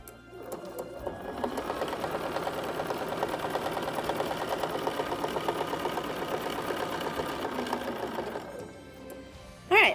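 A sewing machine stitches a quilt block along a ruler template's dashed line, running steadily at close range for most of the stretch before stopping, with no talk over it.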